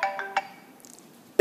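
A mobile phone ringtone plays a few quick melodic chime notes up close, then fades into quiet before a sharp sound at the very end.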